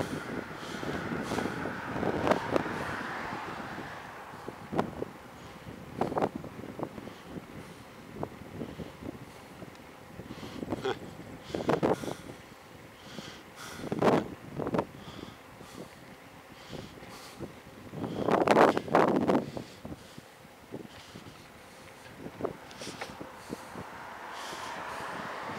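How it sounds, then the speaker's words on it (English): Wind blows outdoors along roads and trails, rumbling across the microphone in repeated gusts that swell and fade every few seconds, with the loudest burst partway through and no talking. "Windy out."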